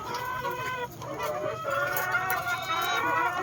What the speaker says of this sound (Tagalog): Ito yung mga naunang mga manok.